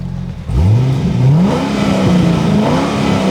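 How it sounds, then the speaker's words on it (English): A 2006 Corvette engine revs up hard with rising, sweeping pitch after a brief lull, then holds a loud, steady high idle with a couple more throttle blips, close to the microphone. "See the RPM move on it"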